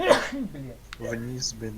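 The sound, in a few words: sneeze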